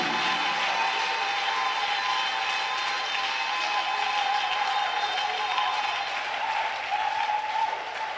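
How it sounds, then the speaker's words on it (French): A church congregation claps in praise, dense sustained applause from many hands that stays steady and fairly loud for the whole stretch with no clear talk over it. "Oh, give the Lord a clap of praise"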